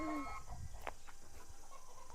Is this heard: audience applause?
no